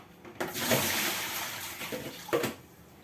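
Water pours and drains from raw chicken in a home kitchen, a short splashing rush with a couple of sharper spills, fairly quiet and without talking.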